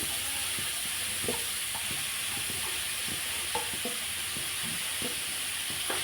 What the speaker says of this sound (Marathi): तूप आपलं छान तापलेलं आहे त्याच्यामध्ये मी आता जे गंगाफड किसलेलं आहे ते घालून घेते